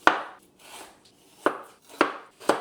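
Fresh ginger is grated by hand for General Tso's chicken. Several rasping strokes come close and in an uneven rhythm, each a short scrape, with brief pauses between them. No one speaks.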